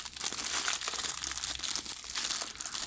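Cellophane tape being slowly peeled from the side of a plastic toy package, a close, continuous crinkling and crackling with no talk.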